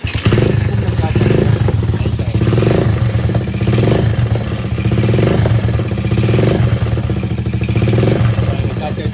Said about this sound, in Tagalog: binuway natin yung motor